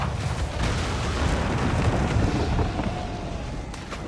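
Ship cannons fire in Assassin's Creed IV during a naval battle, a heavy, continuous rumbling roar of booms and blasts filling the scene with little pause.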